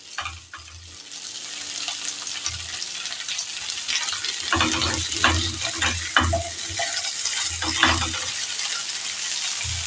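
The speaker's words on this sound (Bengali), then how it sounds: "জল দিয়ে দেব।" Water poured into a pan of frying pumpkin and potato with spices, raising a loud, steady sizzle with bubbling and spatula knocks, close up, no talk.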